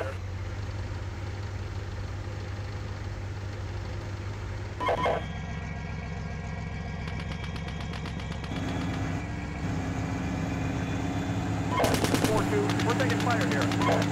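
Incoming gunfire in the Steel Beasts tank simulation game: rapid machine-gun bursts rattle over a constant low engine drone, the firing growing denser and louder toward the end.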